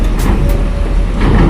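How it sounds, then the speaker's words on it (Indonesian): A medium tourist bus rumbles past at a port, its loud, steady engine drone mixed with traffic noise, while people talk nearby. "Medium bus pariwisata."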